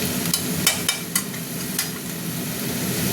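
A spatula scrapes and knocks through banana stem and potato fry with green chilli in a pan, a handful of sharp clinks over a steady low sizzle.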